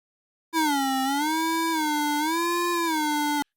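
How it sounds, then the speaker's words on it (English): A simple mono theremin-style synthesizer tone, played by hand tracking, glides smoothly and continuously between pitches with rich harmonics and no pauses. The tone is clean, steady in level, and heard alone for about three seconds. "So now you have a simple theremin."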